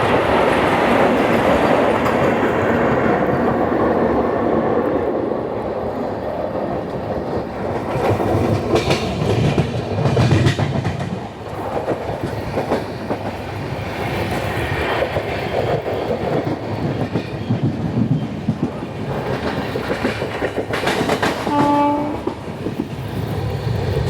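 The New Jalpaiguri–Patna Vande Bharat Express rushes past near the Mahananda River with a steady rumble and clatter of wheels, ending with a short horn blast.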